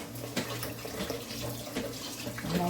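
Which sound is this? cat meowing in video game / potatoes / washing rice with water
washing rice with water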